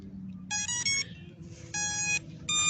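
A Ruko F11 GIM2 drone powering on gives a series of bright, high electronic beeps in short bursts with gaps between them, clear over a low background hum.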